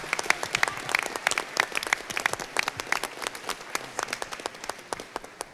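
Applause at a school board meeting as the audience claps for parents, with many individual claps standing out sharply, moderately loud and sustained throughout with no talking.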